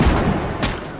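A single heavy sniper rifle shot fires in a video game, a loud close boom that decays over about a second.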